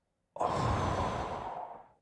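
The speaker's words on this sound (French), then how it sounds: "Alors, une respiration." A single deep, slow breath, drawn in and let out audibly close to the mic during a breathing exercise, starts after a brief silence and fades away over about a second and a half.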